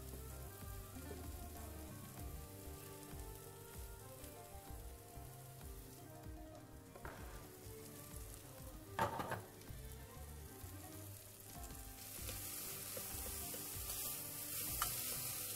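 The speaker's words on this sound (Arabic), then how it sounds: "شوية زيت زيتون مع شوية زيت نباتي. دايما نبلش بقلية البصل" Onions frying in a mix of olive and vegetable oil give a steady, dense crackling sizzle like light rain. It holds close and even throughout, with a few brief utensil knocks midway and no talk.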